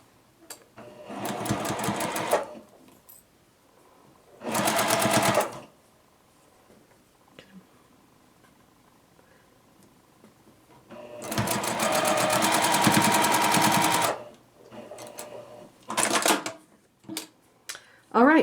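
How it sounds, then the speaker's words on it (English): A sewing machine stitches down the side seam of a Ripple mini quilt block, running in four separate bursts of steady, rapid whirring, close by and loud, with quiet pauses between them. "we are going to go ahead and stitch down this side"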